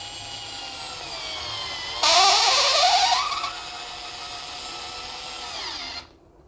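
An Ingco cordless screwdriver with 4 Nm torque whirs steadily, then strains louder and rises in pitch for about a second while driving a large screw tight, before spinning down and stopping; close and alone, no speech.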